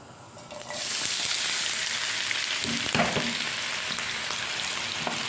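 Chopped onions dropped into hot groundnut oil, bursting into a loud, steady sizzle up close, with a few soft stirring knocks partway through and no talking.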